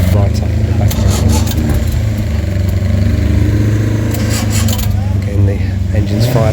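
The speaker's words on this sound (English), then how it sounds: "Getting the engines fired up. The fuel pump going." Racing car engines fire up at a Motorsports Day at Brooklands Museum, with a fuel pump running. A loud, steady low engine drone continues unbroken from start to finish, nearby and dominant.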